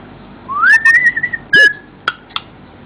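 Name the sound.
parrot Qik whistling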